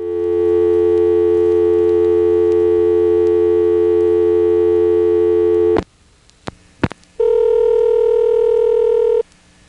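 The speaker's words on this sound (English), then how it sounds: "Never, ever give the customer a ringtone when they haven't dialed a number." A steady electronic telephone ringing tone drones for several seconds on a line where no number was dialed, is cut off by a couple of clicks, then a different tone resumes.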